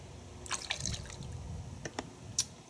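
Thin, water-like Turtle Wax Max Power car wash being poured into a container, a quiet trickling and dripping with a few sharper splashes, close by and faint.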